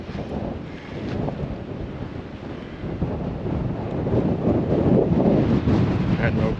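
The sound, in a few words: strong wind blowing, wind noise on microphone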